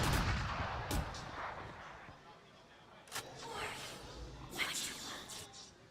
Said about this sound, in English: Xander and Asuna just unload